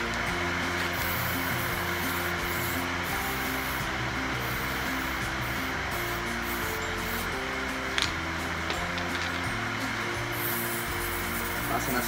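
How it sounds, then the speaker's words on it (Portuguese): Steady hissing from a 5-56 lubricant spray can being applied to a truck tire during a tire change at a company yard, a continuous close spray running throughout with a faint click midway. "Passar spray agora."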